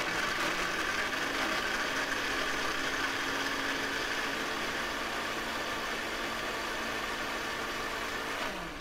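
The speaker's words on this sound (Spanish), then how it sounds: "Esta batidora es una basura." An electric blender runs continuously, producing a steady, even motor whir and rushing noise at constant loudness for several seconds, with no talking.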